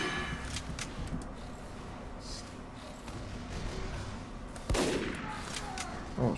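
Video game gunfire rattles through a busy, noisy battle soundscape, with a sharper loud burst of shots near the end standing out over the constant background rumble.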